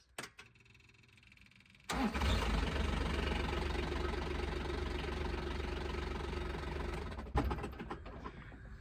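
The diesel engine of a 2016 Kawasaki Mule PRO-DX LE utility vehicle cranks and catches after a fuel filter change, then runs at a steady rumbling idle, loud and close, with a brief rev near the end.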